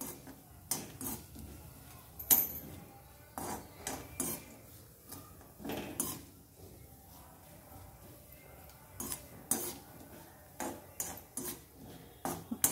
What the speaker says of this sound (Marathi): छान सोनेरी कलर येस्तोवर खोबरं भाजायचे.